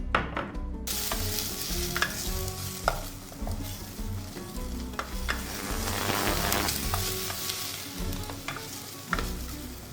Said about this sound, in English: I'm adding 2 tablespoons of olive oil to a pot, and we're gonna fry our onions